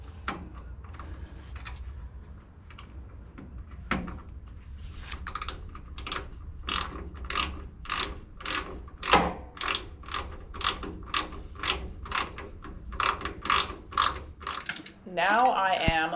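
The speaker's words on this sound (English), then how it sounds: "now I'm going to tighten the clamp for the hose down here." A ratchet clicks in rapid, even bursts while a hose clamp is tightened on the engine of a 1964 Ford Falcon, the sharp pawl clicks loud and close, ending in a brief metallic rattle.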